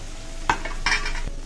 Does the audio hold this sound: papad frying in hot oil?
yes